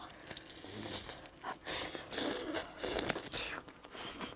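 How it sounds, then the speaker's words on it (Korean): Close, crisp crunching bites into fried chicken coated with shrimp-flavoured flakes with hints of garlic and parsley, several sharp crackling bites and chews in quick succession with no talking. "맛있는 후라이드에 새우향 나는 후레이크를 뿌려갖고 더 바삭해"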